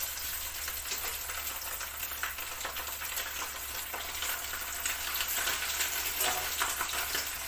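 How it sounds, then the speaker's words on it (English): Fish frying in a hot pan for Jamaican brown stew fish gives a continuous crackling sizzle, moderately quiet and steady, swelling slightly near the end, with no talking. "So now I put the fish into the pan."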